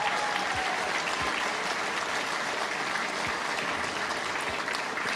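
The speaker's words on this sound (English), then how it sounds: "Let's give her a round of applause" Applause from an audience at a cattle-industry impact award ceremony, a steady, dense wash of clapping sustained for several seconds, moderately loud and without speech over it.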